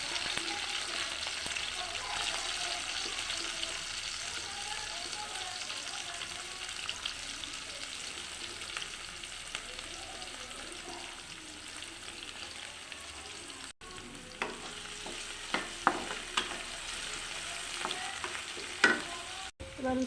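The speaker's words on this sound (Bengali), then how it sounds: "তো তার জন্য উচ্ছেগুলো আগে ভেজে নেব।" Bitter gourd pieces fry in a pan for a vegetarian shukto, giving a steady, close sizzle with occasional sharper pops and stirring clatter toward the end, with no talking.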